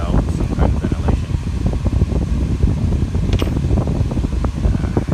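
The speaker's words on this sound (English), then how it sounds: "this nice big fan blowing in here" A large electric fan blows air steadily inside a hot garage, a continuous broadband whoosh with low rumble, while a voice talks over it throughout.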